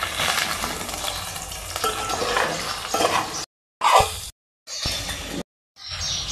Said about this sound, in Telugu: ఎగ్ అయితే మంచిగా ఫ్రై అయింది